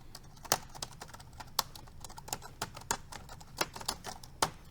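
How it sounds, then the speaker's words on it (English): Typing on a JLab GO wireless keyboard with scissor switches, set on a counter: a steady run of crisp, close keystrokes, about a dozen sharper, harder presses standing out in an irregular rhythm, with no talking. "that was me typing a little bit harder than I normally do"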